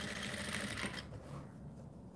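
A sewing machine runs steadily, stitching along the edge of a fabric bucket hat, close and continuous for about a second before easing into a quieter hum.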